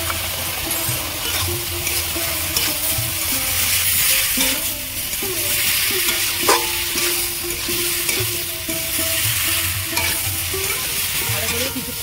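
Potatoes, drumstick pieces and spice paste sautéing in a pan for a fish curry, a continuous close sizzle with repeated scraping stirs and occasional metallic clinks of the spatula.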